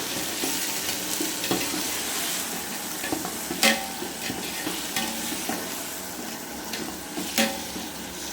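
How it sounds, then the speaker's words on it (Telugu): Tomatoes fry and get stirred in a pan while cooking tomato rice, a steady sizzle close up with the scrape of a spoon and a few sharp clinks against the pan. "టమాటా వేస్తున్నానండి. టమాటా రైస్ కదా, టమాటాలు కొంచెం ఎక్కువగా వేసుకున్నా."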